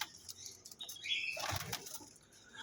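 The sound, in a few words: Saharanpuri pigeons flapping wings in a loft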